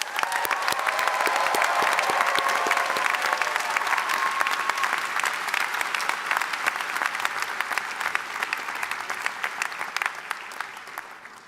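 Graduation ceremony audience for evening, full-time and global MBA graduates bursts into sustained applause with some cheering, a dense, steady clatter of many hands that slowly thins toward the end.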